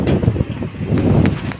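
Gusty wind from a large fan buffets the microphone in loud, uneven bursts, a close, blustery rush.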